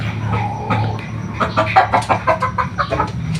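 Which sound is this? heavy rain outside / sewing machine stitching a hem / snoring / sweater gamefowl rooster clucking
sweater gamefowl rooster clucking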